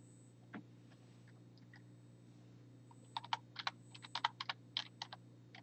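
Keys on a computer keyboard clatter in quick irregular bursts against a steady low hum, one early tap and then a dense run of close clicks.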